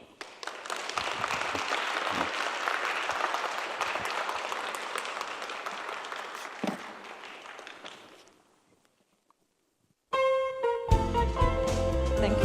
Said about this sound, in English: Why don't you give him a big round of applause one more time?